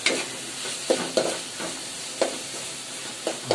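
Fish curry is sautéed in a pan in the final stage of cooking down, with a continuous close sizzle and regular stirring scrapes every second or so, steady and without speech.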